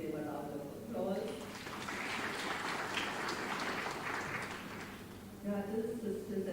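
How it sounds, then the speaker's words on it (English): An audience at a Sivananda centenary conference gives a broad round of applause for the mothers who lit the lamps. The clapping swells for several seconds between stretches of speech. "Please can we give them a round of applause"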